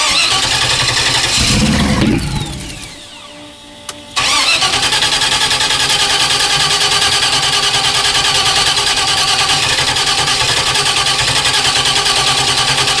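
A Ford Mustang GT350 V8 starts up with a brief crank, then settles into a loud, steady roar close by that holds to the end, with no voices.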